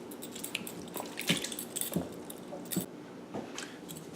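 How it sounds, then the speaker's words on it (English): Homemade butter is pressed and worked by hand in ice-cold water to squeeze out buttermilk, giving faint, close squishing and sloshing sounds with a few soft clinks at irregular intervals. "we press down on our butter and work that buttermilk out of the butter"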